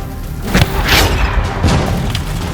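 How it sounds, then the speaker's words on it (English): A single warning shot from a gun in a medieval-style war game, a dull booming thump with a few softer thuds after it, heard over outdoor background noise. "One gun! Warning shot! Fire!"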